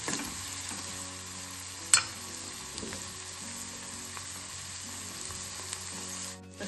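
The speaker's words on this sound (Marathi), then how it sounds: "कांदा छान लालसर होईपर्यंत परतायचा आहे आपल्याला।" Onion sautéing in a pan until reddish for a dry brinjal vegetable dish, a quiet steady sizzle with occasional stirring clinks and a sharp tap early on.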